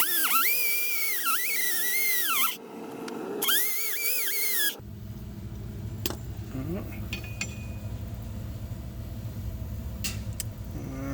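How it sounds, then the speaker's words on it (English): A handheld die grinder spins with a high, warbling whine as a wire wheel scrubs Loctite off brake bolts on a Silverado, bogging under load, then cuts out into scraping and clinking workshop noises. "I just use a little die grinder with a wire wheel and hold it with a pair of vice grips"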